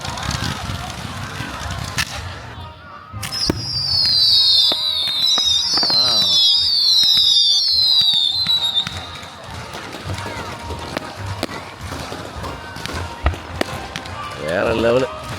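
Fireworks at a USA festival burst overhead in scattered loud cracks and pops, with whistling rising streaks in the middle, while people talk and exclaim nearby throughout.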